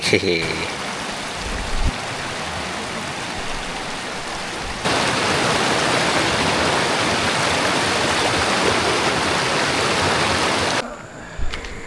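Sungai Gapoi, a river stream at Karak in Pahang, rushes with a loud, continuous broadband wash. The flow grows louder about midway and stays steady before dropping at the very end.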